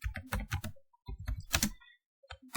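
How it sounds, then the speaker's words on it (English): Computer keyboard typing a command, several quick clusters of crisp key clicks with a short pause midway, close and clear. "So now here we need to type expo install"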